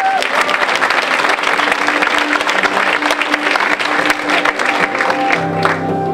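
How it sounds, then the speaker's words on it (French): An audience at a French Imagine Cup 2013 final ceremony applauds the bronze medal finalists, with loud, sustained, dense clapping from a large crowd that carries on steadily throughout. "merci de les applaudir très fort"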